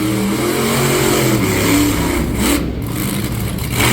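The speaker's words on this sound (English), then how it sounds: "Here comes another donut." A monster truck engine revs loud and close while the truck spins donuts at a live competition, a continuous roaring drone rising and falling without pause; no talking.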